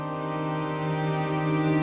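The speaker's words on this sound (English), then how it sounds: "string quartet, the amber string quartet" A string quartet patch from the Orchestral Tools Babel sample library holds one sustained, steady chord, soft and even, with no other sounds.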